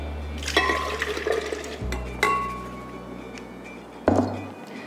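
Coconut cream and water pour into a Panasonic blender jar in a home kitchen, a gurgling splash of liquid with a few sharp glassy knocks and clinks against the container.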